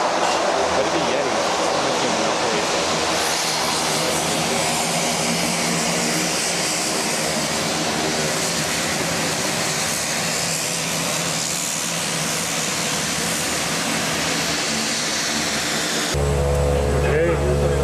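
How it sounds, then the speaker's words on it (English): An airplane approaches to land at a Nepal airfield, heard as a loud, broad, steady engine roar lasting many seconds, with a deep low rumble surging in near the end. "I think that means a plane's coming in."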